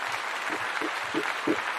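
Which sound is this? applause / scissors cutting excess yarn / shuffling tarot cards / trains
applause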